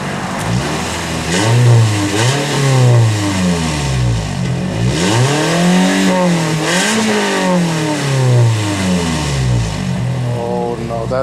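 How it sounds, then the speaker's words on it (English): A Scion iM fitted with a DNA Motoring catback exhaust is revved repeatedly up and down from idle, loud and close, each swell rising and falling in pitch, with voices talking over it. "Give it a little rev."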